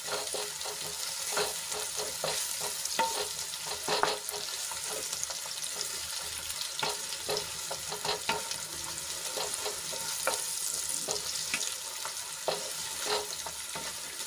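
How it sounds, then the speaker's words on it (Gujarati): Onion sautéing in a ginger-garlic-chili paste crackles and sizzles in a pan, with frequent stirring scrapes and small pops punctuating a moderately quiet, continuous fry, no one speaking. "એમાં આપણે ડુંગળી એડ કરી લઈશું અને ડુંગળીને આછા ગુલાબી રંગની થાય ત્યાં સુધી આપણે એને સાંતળી લેવાની છે"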